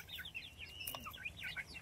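Small chicks cheep in quick high, wavering peeps while being caught on a farm, faint and close, with no talking.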